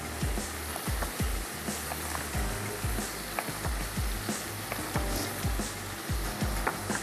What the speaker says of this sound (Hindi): चलिए अच्छा सा इसको भून लेते हैं